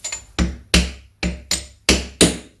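A hammer shaft strikes the bottom edge of a conrod during a Triumph Trident T150V engine rebuild, giving seven sharp, close metallic taps spaced roughly evenly, each ringing briefly before the next.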